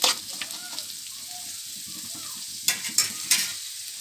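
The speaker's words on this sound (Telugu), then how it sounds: "ఇలా ఒకసారి కలిపేసుకుందాం" Flattened rice upma is stirred in a hot pan: a steady sizzle runs throughout, with a few sharp spatula scrapes near the end, close and clear.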